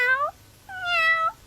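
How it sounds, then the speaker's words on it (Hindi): A cartoon cat gives two clear, close meows, the first short and the second longer, separated by a brief pause. "देखो बिल्ली"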